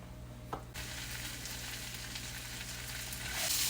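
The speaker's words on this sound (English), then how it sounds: "I'm gonna add all my vegetables" Vegetables for a homemade chicken pot pie filling hit about three tablespoons of melted butter in a pan, bursting into a loud, steady close-up sizzle after a brief clatter, with no talking.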